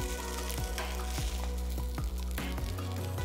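Garlic tehari rice stirred in a pot, the spoon scraping in a rough rhythm over a constant sizzling fry, moderately loud and close with no talking.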